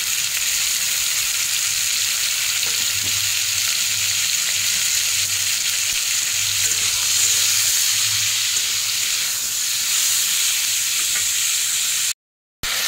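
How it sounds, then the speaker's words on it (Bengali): Potatoes and pointed gourd fry in a pan with a loud, steady hissing sizzle that fills the whole stretch, broken by a brief cut to silence just before the end. "আলুগুলো ভাজা ভাজা হচ্ছে, দেখো আলু পটল দিতে।"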